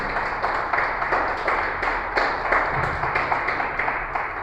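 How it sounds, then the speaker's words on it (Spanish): Church congregation applauding during a sermon, a dense, steady wash of many hands clapping with faint rhythmic pulses, sustained and fairly loud throughout. "Apláudele al Señor"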